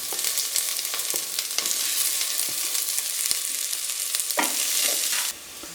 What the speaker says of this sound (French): je commence par mettre les oignons. On va les faire cuire pendant environ